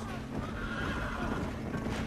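A horse whinnies and neighs with hooves clopping in Red Dead Redemption, a steady, fairly loud game soundscape with no talk over it.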